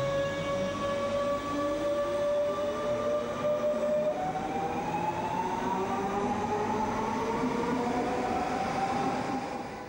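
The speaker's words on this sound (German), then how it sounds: "Die Fahrzeuge gehören zur Baureihe 425, die in vielen Regionen im S-Bahn- und Regionalverkehr im Einsatz ist." A DB Class 425 regional electric multiple unit train passes with rising and falling motor whine, tones sliding up as it accelerates, over a steady rumble of wheels on track.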